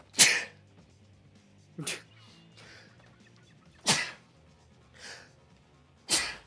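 Five sharp sneezes from one person burst out at irregular intervals, each loud and close, with quiet pauses between them.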